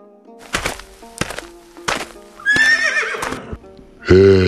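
Horses in an animated Kyrgyz mountain folk tale: a few sharp hoof knocks and clops lead to a whinnying cry, then a loud, close neigh bursts out at the end.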